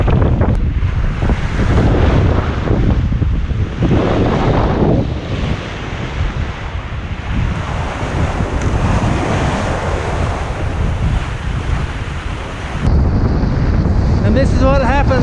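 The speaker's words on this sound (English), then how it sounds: "The wind fills in, 20-25 knots. Waves come in. It's a bit of a stormy ride." Gusting 20-25 knot wind roars over the microphone aboard the Hallberg-Rassy 54 sailing yacht off Antigua, with waves rushing and crashing against the hull in a loud, continuous wash.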